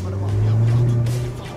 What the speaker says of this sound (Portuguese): Mano, que carro nervoso